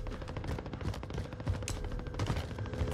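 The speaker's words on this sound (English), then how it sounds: "Is it the guy shooting at us?" Rapid gunfire from an enemy player in the Call of Duty Warzone video game, dense bursts of automatic shots crackling continuously and fairly loud throughout, with no talk over it.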